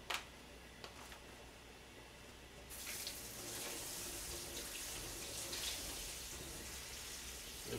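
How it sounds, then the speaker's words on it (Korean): Tap water runs steadily into a sink while noodles for clam noodle soup are rinsed, a soft trickle that swells into a fuller, louder gush partway through and continues alone. "물에 한번 헹궈주고 바로 넣겠습니다."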